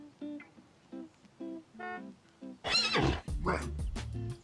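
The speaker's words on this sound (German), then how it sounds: "Es ist einfach ein fucking Pferd." A horse whinnies loudly in the video game What the Car, a shrill, wavering neigh that follows a series of soft electronic tones and ends in snorting and clopping.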